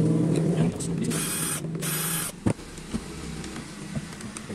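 A JLD jet cleaner with a total power fault is taken apart by hand: close plastic clicks, rattles and scraping handling noises, with a brief loud knock partway through.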